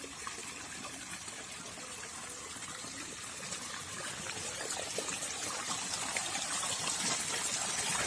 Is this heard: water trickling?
yes